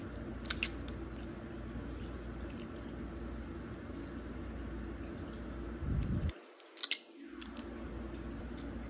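Scissors snip through adhesive-lined heat shrink tubing during a car audio speaker install, a couple of sharp close cuts over a steady hum of room noise.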